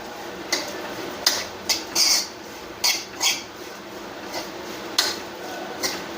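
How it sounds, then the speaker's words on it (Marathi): Grated coconut roasts in hot ghee in a pan while a spatula stirs it, making irregular metallic clicks and scrapes over a low, steady background hiss. "तूप गरम करून घेते असं आता ह्याच्यामध्ये मी हे खोबऱ्याचं पीठ टाकून घेणार आहे बारीक केलेलं खोबरं थोड्या वेळ परतून घेणार आहे"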